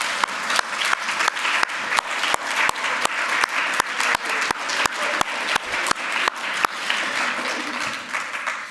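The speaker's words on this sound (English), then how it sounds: "we'll all give you a thunderous round of applause" Sustained audience applause fills a medical colorectal conference session hall, a dense steady clapping from a large crowd thanking the organising team, with no talking over it.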